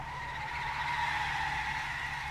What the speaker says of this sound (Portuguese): Torrei os pneus do carro.